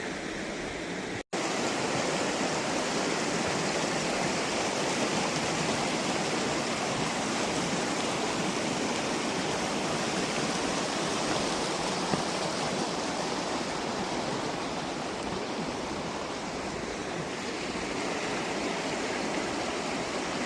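Steady broadband rush of a mountain stream flowing close by beside a log crossing near a river crossing on a wilderness trail, continuous and fairly loud with no voices.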